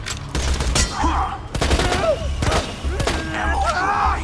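Borderlands 2 video game gun firing rapid ricocheting shots, sharp repeated cracks with pinging whistles between them, close and loud, with voices talking over the gunfire.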